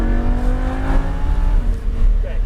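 A mid-engine, all-wheel-drive Ferrari accelerates, its engine note climbing steadily in pitch over a couple of seconds, loud and close, with a brief dip before pulling hard again.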